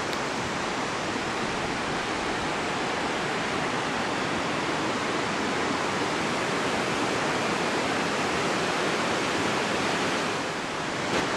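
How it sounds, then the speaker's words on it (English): The Gauley River in Fayette County, West Virginia, slightly stirred up after recent rain, rushes in a steady, dense broadband roar that holds unbroken and fairly close, with no voices over it. "River stirred up just a little bit."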